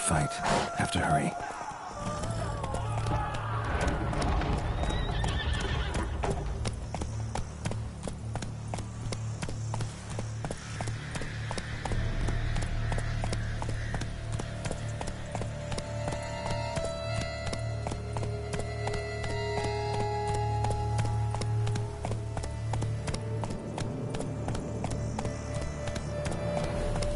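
Hooves of a horse galloping in a PS4 video game pound in a steady clip-clop rhythm throughout, mixed with game music and effects, while a person talks over it.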